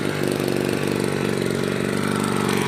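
A used Japanese Robin 1-inch water pump's small engine runs steadily at idle, a loud, close, even putter that holds without a break and with no voices.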